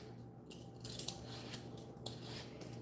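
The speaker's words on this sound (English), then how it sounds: "So we're going to chop them and peel them." Sweet potatoes are cut and peeled close by, giving quiet scraping and snipping sounds with a few small clicks against a faint steady hum.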